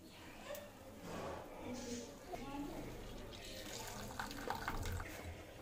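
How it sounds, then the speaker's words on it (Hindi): Salted cabbage is squeezed between both hands, and water trickles and splashes out steadily. The sound is soft and close, with someone talking over it. "इसको इस तरीके से दोनों हाथों के बीच में दबाते हुए निचोड़ लेंगे।"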